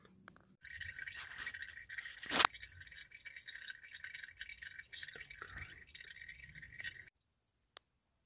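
Engine oil drains from a Honda Rancher ATV in a thin steady trickle into a container. The pour runs for several seconds, then stops abruptly, leaving near silence and one last drip.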